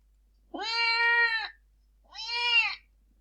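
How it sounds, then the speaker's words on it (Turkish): A cat meows twice, clear and close, each meow drawn out for about a second with a short pause between them. "It's a white cat."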